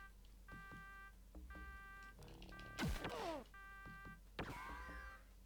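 A Shadowrun alarm on the Sega Genesis rings out in repeated electronic beeping bursts, mixed with sharp descending laser-like zaps and synthetic thuds from the game.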